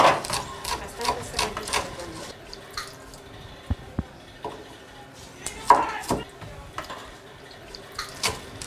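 Chirarán and chillangua herbs chopped together on a wooden board, a steady run of close, soft knife taps with brief pauses, while water drips and runs from a tap in the background.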